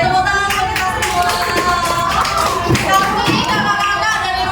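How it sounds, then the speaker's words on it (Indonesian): A group of schoolchildren at an Indonesian elementary school class applaud together, a dense, steady patter of many small hands clapping for several seconds, with children's voices mixed in. "Oke, tepuk tangan buat kita semua."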